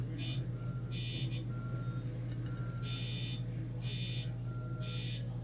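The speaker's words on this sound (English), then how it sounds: "He's setting off his fire alarms." Fire alarms sounding during a lighting collection showing, repeated shrill electronic beep bursts in a regular on-off pattern over a steady low hum, fairly loud and sustained.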